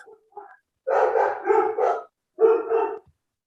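A puppy gives a few short, high yips, then a burst of several quick barks in a row, a pause, and one more bark, close by.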